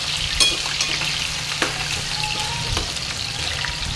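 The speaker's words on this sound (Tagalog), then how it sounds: "So, ayan, i-fried ko muna ang patatas." Potato pieces fry in hot oil for a chicken biryani, a loud, continuous close-up sizzle with a few soft stirring knocks and no talking.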